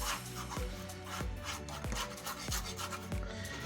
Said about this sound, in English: we'll just start to scrape that right straight onto the canvas